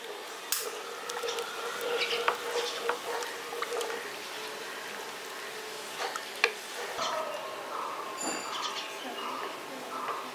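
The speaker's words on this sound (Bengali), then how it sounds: "এখানে দুধটা দেবেন আর ভালো করে মেশাতে থাকবেন" Milk is stirred into caramelized sugar in a pot for misti doi, giving soft, faint liquid swishes and small clinks close up while someone talks over them.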